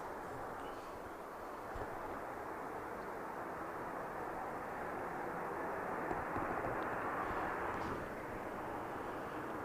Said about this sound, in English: Boeing 737-800 JZBF. Just taxiing off.